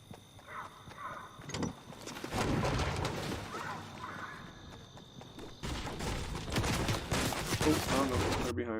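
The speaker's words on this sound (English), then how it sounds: "Shots." Video game gunfire in bursts, rapid cracking shots that come in clusters separated by quieter gaps, with a player talking over parts of it.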